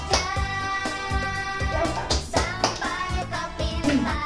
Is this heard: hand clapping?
yes